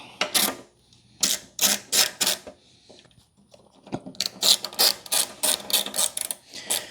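Ratchet tightening a nut on a Kawasaki Ninja ZX-10R, close and crisp, with bursts of rapid clicking strokes separated by short pauses.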